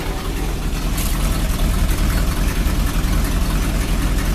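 A Chevrolet El Camino fitted with a new exhaust system idles nearby, a loud, steady engine rumble with no change in pace and no voices.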